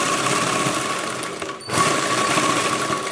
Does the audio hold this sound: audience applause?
no